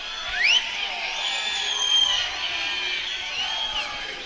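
A crowd at an MMA fight at Fierce FC 34 cheers and shouts steadily, with whoops rising above the continuous roar. Voices stay mixed into the crowd noise.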